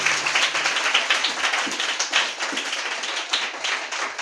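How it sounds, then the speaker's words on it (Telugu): A church congregation claps loudly and continuously in a dense, even roar of many hands, with no voices over it. "గట్టిగా చప్పట్లు కొట్టు"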